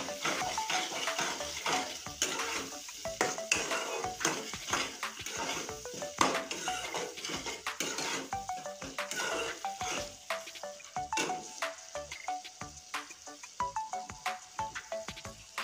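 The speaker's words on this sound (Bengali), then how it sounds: "এবার আমি সুন্দর করে নেড়ে নেব।" Potato and spice mixture with turmeric and coriander powder being stirred in a pan, a steady run of scraping and clattering spoon strokes over a soft frying sizzle, close and fairly busy throughout, with no talking.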